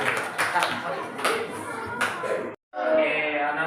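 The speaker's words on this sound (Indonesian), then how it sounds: "Ya, beri tepuk tangan untuk yang sudah bagus" Elementary schoolchildren in a classroom clap in a few bursts of quick hand claps, close and fairly loud, with a brief silent break before the clapping resumes; children's voices mingle in.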